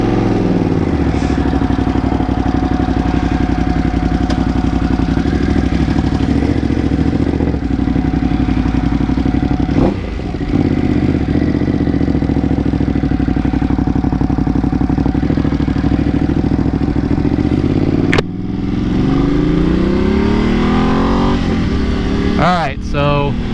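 A motorcycle is ridden along the road, a steady engine and wind drone that runs throughout with a few brief clunks and shifts, while the rider talks over it.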